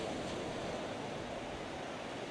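Steady broadband roar of sea waves and surf on Ganpatipule beach in Ratnagiri, continuous and fairly loud with no distinct breaks, blending with wind.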